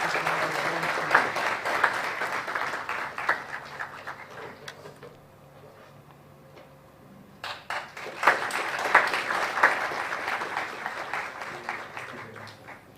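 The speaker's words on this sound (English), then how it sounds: "Come on, zealous audience, let us applaud." Applause from a conference audience at an award felicitation, fading to a lull, then swelling again into sustained clapping.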